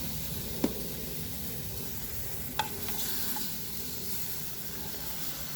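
Thai khanom thang taek batter sizzles in a hot pan with a steady, even hiss, broken by a couple of faint clicks.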